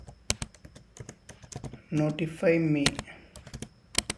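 Sharp, irregular key clicks from a computer keyboard as HTML is typed, close and fairly quiet, with a person speaking briefly in the middle.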